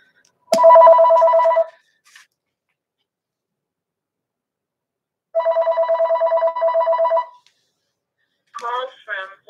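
A telephone rings in warbling electronic bursts, one long trill and then a pulsed ring after a pause, loud and close, followed by a short synthetic voice announcing the incoming call.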